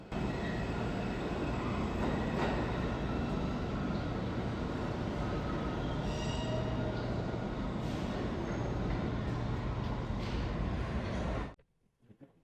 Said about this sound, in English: Here's the train leaving.